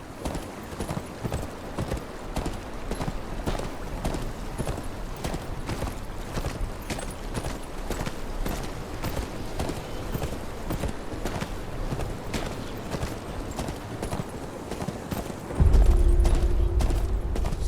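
Horse hooves clip-clop in a steady walking rhythm throughout a Game of Thrones Kingsroad video game scene on the road to Winterfell, with a louder low rumble joining near the end.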